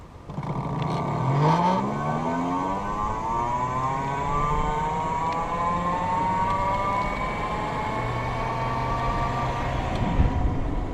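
A Jetson scooter-style electric bike with a 500-watt motor accelerates from a standstill on the throttle, its motor whine rising steadily in pitch and then holding a high steady tone, close and fairly loud, with no talking.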